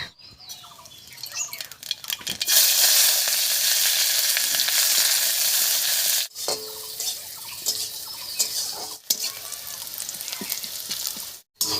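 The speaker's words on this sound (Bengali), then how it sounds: "এবারে তেলের মধ্যে দেব সামান্য একটু কালো জিরা আর পেঁয়াজ কুচি।" Black cumin and chopped onion hit hot mustard oil in a wok with a loud, sustained sizzle that flares up strongly, then continues with stirring scrapes and brief pauses as the frying settles.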